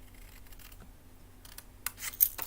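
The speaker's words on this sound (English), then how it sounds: "I'm going to cut this piece off, going inside the score line" Scissors cut a piece of card off inside the score line, with faint, brief snipping and rustling that builds toward the end after a near-silent start.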